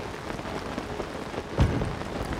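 Steady rain pattering on surfaces in the Thunderhead Isles of the video game Zelda: Tears of the Kingdom, a continuous dense downpour with a brief louder splash or rumble partway through, no talking.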